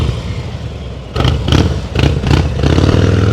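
Motorcycle during advanced slow-speed riding practice, its engine loud and close with a steady throttle drone that surges a few times, plus some clattering.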